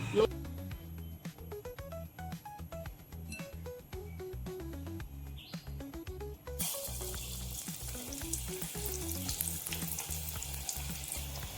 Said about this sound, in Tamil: உருட்டி அதை அப்படியே போட்டுருங்க எண்ணெயில் போட்டுட்டு உடனே கரண்டி வச்சு திருப்பக்கூடாது